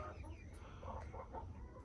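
Naked neck chickens cluck softly inside a backyard coop, a few faint, scattered calls over a steady low background hum, with no talking.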